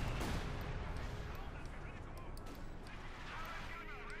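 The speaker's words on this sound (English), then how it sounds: "25-pounder guns sounding off to silence the Germans" British 25-pounder artillery guns firing in Company of Heroes 2, a dense barrage of booms and gunfire rumbling continuously over the battlefield, with a commentator talking underneath.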